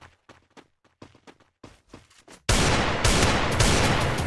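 Desert Eagle gunshots in a video game: a few sharp reports and footsteps are followed by a sudden loud, dense burst of gunfire that carries to the end.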